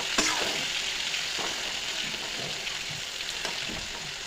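Pieces of pointed gourd, potato and fish sizzle in hot oil in a pan, a steady bright hiss with occasional soft scrapes of stirring, close and fairly loud, no voices.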